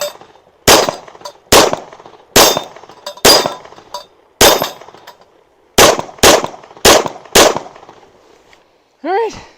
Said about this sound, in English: let's see how well Trigger Bar can shoot the Cato C2.